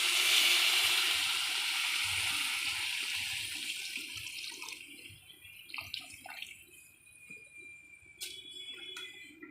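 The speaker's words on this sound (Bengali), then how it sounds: "এখানে ফাইনালি জল দিয়ে দিতে হবে" Water is poured into a kadai of spiced curry, producing a steady rushing splash that gradually settles into bubbling and soft gurgling at close range, with no talk over it.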